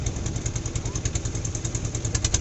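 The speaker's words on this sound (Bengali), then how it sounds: "ট্রলার, ছোট ট্রলার।" A small trawler boat's engine chugs steadily and loudly close by while crossing the Padma river, with a fast, even diesel thumping and a mechanical clatter throughout.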